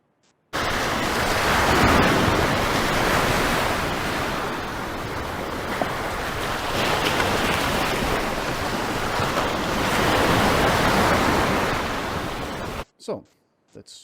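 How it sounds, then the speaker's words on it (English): Ocean surf played back in a Reaper session: steady, dense wash of breaking waves with rolling swells, loud and continuous, then cutting off abruptly near the end with a couple of brief bumps. "I have this ocean sound."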